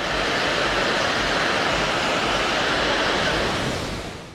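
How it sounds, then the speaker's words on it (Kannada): Floodwater roars through the opened gates of a Karnataka dam after heavy monsoon rain, a dense, continuous rushing wash that stays steady and loud throughout before easing slightly at the end, with no voices. "ಡ್ಯಾಂನ ಗೇಟ್ಗಳು ಓಪನ್ ಆಗ್ತಿದ್ದಂತೆ ಶರವೇಗದಲ್ಲಿ ನೀರು ನುಗ್ತಿದೆ"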